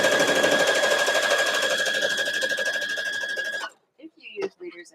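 A sewing machine stitches fabric while piecing a quilt border, a fast, even mechanical rattle for several seconds that stops, followed by a voice speaking.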